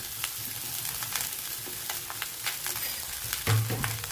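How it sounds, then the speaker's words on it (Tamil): Rice sizzles steadily in a hot pan while being fried for coconut rice, a continuous crackling hiss with occasional stirring scrapes, close and even in level. "இதோட இந்த சாப்பாட்டை வறுத்துக்கலாம்."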